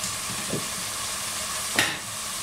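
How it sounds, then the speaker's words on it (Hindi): Beef frying in a pot for white korma, with a steady sizzle throughout and two brief scraping stirs of the spoon against the pot, close by. "अब मैं इसे अच्छी तरह फिर भूनूंगी दोबारा से।"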